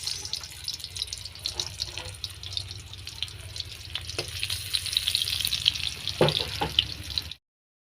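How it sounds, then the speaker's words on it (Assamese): Onions sizzle in hot mustard oil with a steady, crackling hiss, and a few clinks of a utensil stirring the pan near the end. "তেলখিনি গৰম হৈ অহাত মই দি দিছোঁ ইয়াত পিঁয়াজ"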